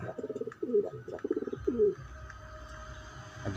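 Pigeons coo in a series of soft, throaty, bubbling calls, several close bursts in quick succession, followed by quieter background noise and a faint steady tone.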